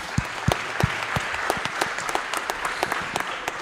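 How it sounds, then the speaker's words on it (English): Applause from a live audience at a startup event, a dense patter of many hands clapping steadily with individual sharp claps standing out, fairly close and without speech. "Big applause."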